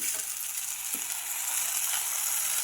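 Washed dill greens added to a hot pan of chili and garlic, giving a loud steady sizzle with a brief rustling stir, close and without talk.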